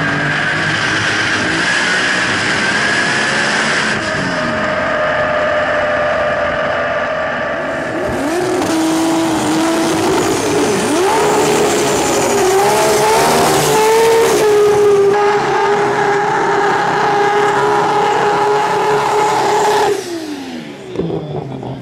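A race car roars past at about 221 miles an hour, engine pitch climbing and shifting as it nears and passes, loud throughout before dropping off abruptly.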